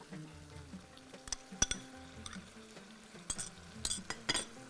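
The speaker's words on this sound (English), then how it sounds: "Now I'm going to add yogurt." Yogurt goes into a hot pan of a Bahraini dish, with a soft steady sizzle broken by several sharp utensil clinks and scrapes against the pan as it is stirred, close and moderately loud.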